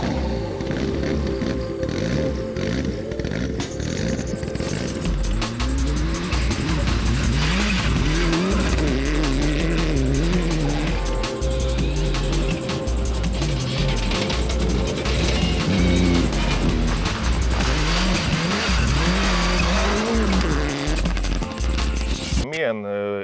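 A Mitsubishi rally race car at a rallycross event revs hard and accelerates, its loud, close engine note rising and falling in repeated surges for over twenty seconds before cutting off abruptly.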